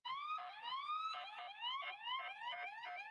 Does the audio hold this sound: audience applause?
no